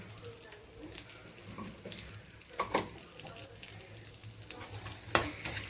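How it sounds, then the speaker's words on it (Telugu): Lentils and cumin seeds with turmeric and curry leaves fry quietly in oil, a faint steady sizzle with a few sharp clinks and scrapes of a utensil against the pan. "పప్పు దినుసులు జీలకర్ర వేసి వాటిని వేగనివ్వాలి."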